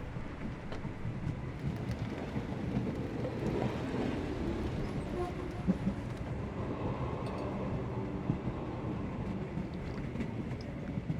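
A train rolls along in the video game Sherlock Holmes The Awakened, giving a continuous, moderately quiet rumble with faint clatter and a few louder knocks.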